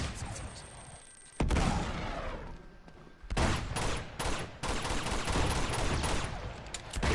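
Video game gunfire erupts in loud rapid bursts, sustained automatic volleys with short gaps between them, sounding close and harsh throughout.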